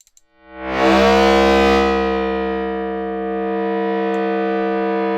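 A metallic, ringing resonant tone from the Combuster resonator effect on iPad, feedback turned high, swells up quickly and sustains as a loud, droning hum with shimmering overtones, slowly settling.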